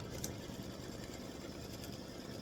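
A sewing machine stitches an applique block, a soft, steady, fast mechanical whir with no voices and one or two brief brighter clicks.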